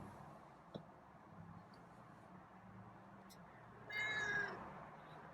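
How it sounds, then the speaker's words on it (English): A feral cat lets out a single short meow near the end, faint against a quiet room with a soft tap earlier. "And that was meow."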